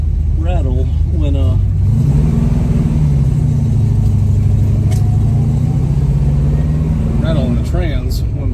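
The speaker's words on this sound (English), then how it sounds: "rattle in the trans when my foot's not on the clutch" A Plymouth Cuda's engine runs loud and steady, rising in pitch slightly a couple of seconds in, and someone talks over it at the start and end; any transmission rattle is buried in the engine drone.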